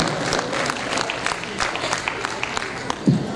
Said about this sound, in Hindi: इनका एक बार तालियों के साथ अभिनंदन, अभिवादन।